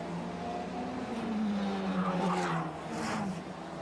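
A Formula Regional European Championship race car driving the Monaco street circuit toward the swimming pool section during qualifying, its high engine note rising and falling steadily, loud and continuous with no talk.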